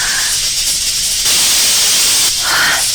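Steam hisses loudly and continuously from a cooking pot, a broad rushing noise that swells sharply midway and holds strong to the end.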